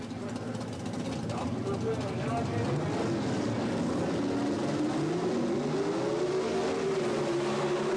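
Gas coupe and sedan drag racing cars at the 1977 Springnationals roar as they accelerate, engine pitch climbing steadily, with a voice talking over the continuous loud rumble.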